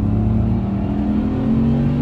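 A BMW 850CSi pulls hard under acceleration, its engine note a smooth, steady, loud drone rising slightly over two seconds with no voices.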